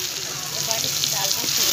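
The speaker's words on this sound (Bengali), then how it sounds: "ভালো করে ফ্রাই করে নেব।" Mutton fries in a pan for Bengali ghugni, giving a dense, continuous close sizzle with faint stirring throughout, no speech over it.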